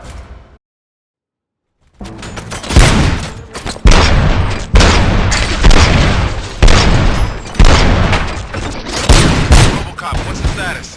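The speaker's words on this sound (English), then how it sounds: "Gunshots? What's going on?" A brief silence, then dense bursts of heavy gunfire and booming shots crowd the scene in RoboCop: Rogue City, loud and sustained in repeated volleys over several seconds.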